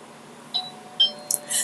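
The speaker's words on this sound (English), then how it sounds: "this ding dong means that it's time to keep it moving on" A short electronic ding-dong chime serves as an exercise cue, two bright bell-like tones ringing out alone over a quiet background.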